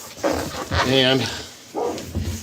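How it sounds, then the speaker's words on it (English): A puppy barks from upstairs in a few short, sharp yaps, one drawn into a whining cry, mixed with a person talking nearby. "And you can hear our puppy dog going nuts upstairs."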